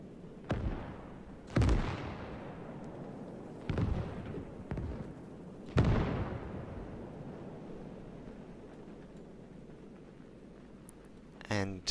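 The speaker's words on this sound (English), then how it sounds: "Little preparatory one that Russians are making with their light artillery." Russian light artillery bombarding German positions in a 1941 push west from Moscow: several heavy booms at irregular intervals, each with a long rumbling decay, over a steady low background, with a sharp rattle near the end.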